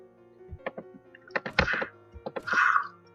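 A zombie attacks the player in the survival game Unturned, with a few short groaning, moaning bursts and dull thunks close up, rising to a louder rasping snarl at the end.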